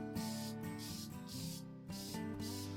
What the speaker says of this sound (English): I taped off the shaft and used a spray lacquer on the handle